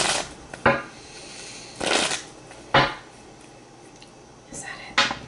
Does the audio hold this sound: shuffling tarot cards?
yes